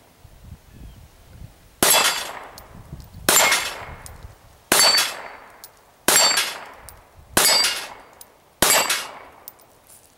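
Six sharp, loud Walther P99 pistol shots fired at a 15-yard target, the first in double action and the rest in single action, spaced evenly about a second apart, each cracking and then ringing out in a decaying tail.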